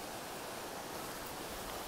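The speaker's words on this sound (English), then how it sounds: "This is the mother waterfall." A waterfall on the Manaslu Circuit in Nepal's Tsum Valley rushes as a faint, steady hiss of falling water, distant and unbroken, with no voices over it.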